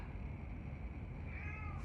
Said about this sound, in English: the cat starts to get loud again